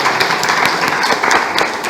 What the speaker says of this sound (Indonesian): tepuk tangan Tangan dulu